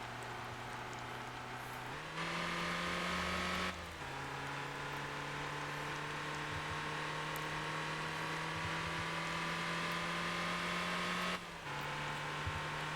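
An overloaded truck drives along in the video game Motor Town, its engine a steady low drone that steps up in pitch twice as it shifts and accelerates, fairly quiet and without voices.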